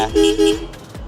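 Two short, loud horn toots in quick succession from a 2021 Royal Enfield Interceptor 650 motorcycle, nasal and high-pitched, close by with a faint engine hum beneath.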